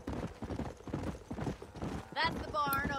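Horse hooves gallop in rapid clip-clop rhythm in the Red Dead Redemption video game, steady and mid-loud under continuous talking, with a short whinny near the end.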